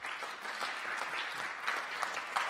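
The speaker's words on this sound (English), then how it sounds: "I want to give our panelists another round of applause," Audience applause for a panel at a forum on renewable energy and Indigenous peoples, a steady even wash of many hands clapping at moderate distance, with no voices.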